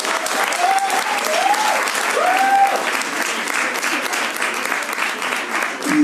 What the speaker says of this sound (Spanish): Fuerte el aplauso para el doctor Luis Sánchez